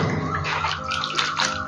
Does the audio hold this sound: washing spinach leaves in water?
yes